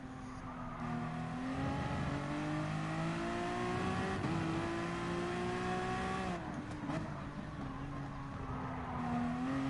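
Race car engine in the game GT Sport, a steady, loud, high-revving drone with rising and falling pitch through gear changes and a brief dip in the middle, heard alone without talk.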